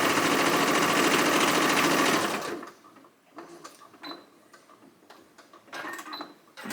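Home sewing machine running at speed, a loud, fast whirring stitch rhythm that stops abruptly after about two seconds, followed by quieter clicks and handling taps.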